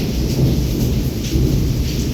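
Torrential downpour in Wankaner with thunder rolling through, a loud steady wash of rain over a deep rumble that swells slightly in places, no voices.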